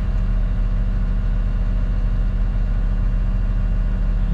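A Cat 938 wheel loader's diesel engine idles in a steady, low, even rumble that stays constant throughout with no voices over it.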